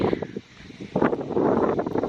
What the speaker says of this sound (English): It's a little windy, so hopefully you can hear me.